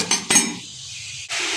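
A metal lid clanks down onto a cooking pot on the stove, two quick bright clinks close together, then a brief muted pause before a softer rustle of kitchen activity resumes.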